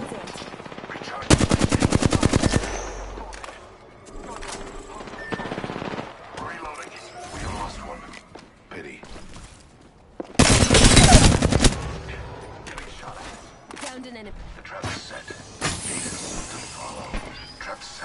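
Automatic gunfire from the video game Conduit, with two loud sustained machine-gun bursts, one early and one midway, separated by quieter game sounds and scattered shots, with a faint voice in the background.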